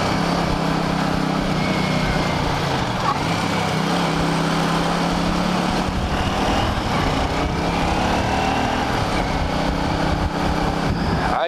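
A 1983 Honda GL650 Silverwing Interstate motorcycle engine hums steadily while riding and cornering, close and continuous with wind rush over it and no talking.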